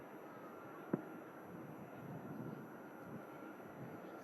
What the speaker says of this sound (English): this aircraft will have entered the runway right at the start of 23 right